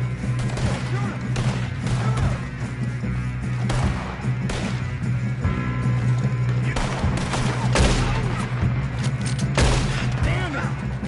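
Rapid gunfire from a Red Dead Redemption 2 shootout, repeated sharp shots and volleys over a steady low rumble, loud and continuous, with voices talking at times.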